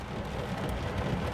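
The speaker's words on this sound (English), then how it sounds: "and I'm sorry for the rain." Steady rain falls as an even, close wash of noise that holds at one level without a break, and no one speaks.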